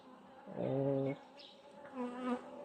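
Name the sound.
Buckfast honey bees buzzing at a hive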